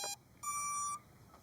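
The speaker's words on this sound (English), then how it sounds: "you hear it just kind of beep and chime, and it kicks on" A PacMotor kayak motor powering on with electronic beeps and a chime: a short beep, a brief pause, then a longer held tone, followed by a faint blip, each loud and clean over quiet background.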